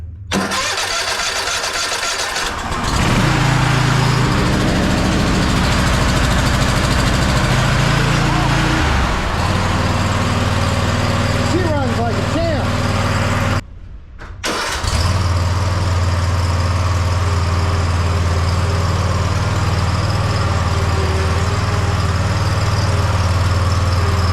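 A Bad Boy MZ Magnum lawn mower engine, choked and at mid throttle, cranks and catches, then runs loud and steady nearby. It drops out briefly and picks straight back up to a constant running drone.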